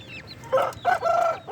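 Close by, a hen gives a few throaty clucks while thin high chick peeps chirp around her.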